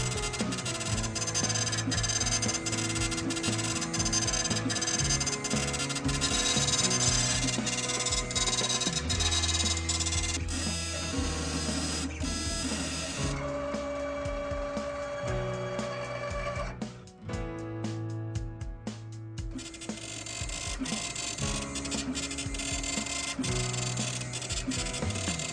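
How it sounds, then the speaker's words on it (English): A Roland MPX90 impact printer engraves an oversize samurai sword blade held in a vise, with steady mechanical buzzing and shifting tonal hums running continuously, briefly changing pitch midway, close and fairly even in loudness. "Once the layout is completed, we're ready to output and print the file."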